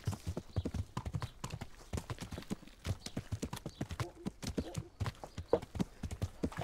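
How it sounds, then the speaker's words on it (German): Horse hooves clip-clop in a steady, quick rhythm while riding in the video game Kingdom Come: Deliverance, a continuous trotting beat that is fairly faint and heard without talk. "Reiten ist sehr schwer."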